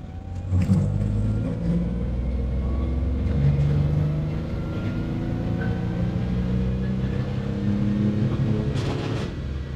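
A BMW M57 diesel car engine idles and revs on a test run with a steady rumbling drone, rising and falling in pitch, with a few brief mechanical clicks.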